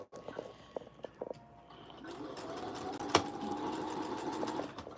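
A sewing machine stitches a dress seam, first in short stop-start bursts, then running as a steady close mechanical whir with a sharp click partway through.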